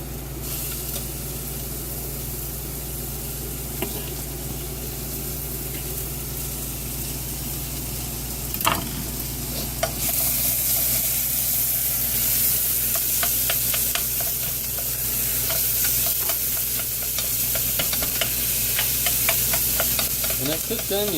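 Meat sizzling in a pan with cooked onion for dressed-up ramen: steady close frying hiss, with occasional stirring scrapes and sputtering pops growing busier in the second half.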